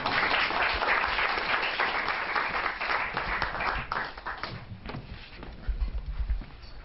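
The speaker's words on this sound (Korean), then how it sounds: "큰 박수로 한번 환영해 주시기 바랍니다." An audience at an academic seminar on Calvin and Reformed theology applauds to welcome a presenter, a dense patter of clapping that gradually fades, with a few louder thumps near the end.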